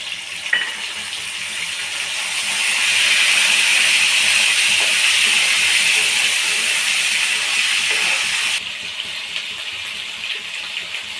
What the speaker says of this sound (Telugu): ఇప్పుడు దాంట్లో కొంచెం అల్లం వెల్లుల్లి పేస్ట్ వేసుకోవాలి.